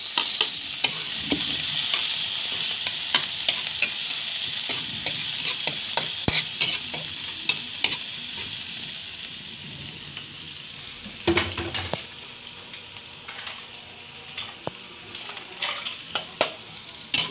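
Chopped garlic and onion sauté in a pan before mussels go in, producing a sustained, bright frying hiss with scattered stirring clicks and a louder scrape partway through.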